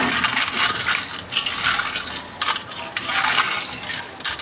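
Washed eggshells crushed and broken up by hand: a steady close crackling and crunching that continues without pause, loud and dense, with no voice over it.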